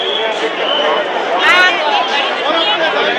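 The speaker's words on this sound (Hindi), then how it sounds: "ये आप देख लीजिए कितनी ज़बरदस्त भीड़ इस समय हरिद्वार के अंदर" Dense crowd of pilgrims gathered on the ghats at Har Ki Pauri, Haridwar, for the Ganga Aarti, a steady wash of overlapping chatter and babble, close and loud throughout, with no single voice standing out.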